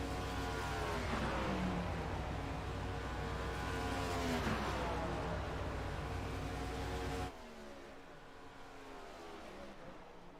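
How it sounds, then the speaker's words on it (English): Race car engines in the iRacing sim at Homestead Miami Speedway drone loudly and steadily, with several overlapping engine notes rising and falling through gear changes before the sound drops abruptly to a quieter engine hum. "There are cars everywhere on this track right now."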